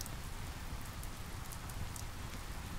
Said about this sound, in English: The rain provides a steady percussion that becomes part of my song.